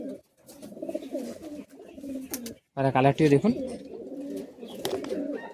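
High-flying Madrasi pigeons coo repeatedly nearby in rolling, throaty phrases, with a louder burst midway, while someone talks over them.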